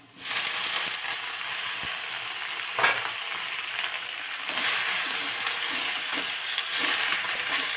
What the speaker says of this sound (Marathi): थोडासा लालसर होईपर्यंत कांदा परतून घेतला